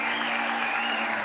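A packed festival hall at the Alpe d'Huez comedy film festival fills with dense, steady applause, loud and continuous with a sustained crowd roar and no clear voices.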